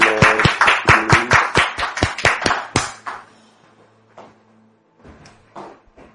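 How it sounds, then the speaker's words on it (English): Studio audience on a talk show clapping as a guest is welcomed, a burst of sharp, close claps lasting about three seconds, then trailing off into scattered faint sounds. "Let us now welcome Ms. Natalie here with your applause, please."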